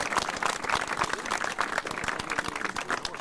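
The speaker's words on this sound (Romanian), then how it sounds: "Să-l aplaudăm!" Audience applause at a 50cc junior karting championship award ceremony in Caransebeș, a dense, steady round of clapping from a crowd that fills the whole moment.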